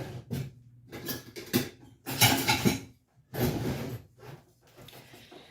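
A wooden spoon clatters and scrapes in a bowl while homemade granola is mixed, giving several close, uneven bursts of stirring and knocking with brief pauses between them.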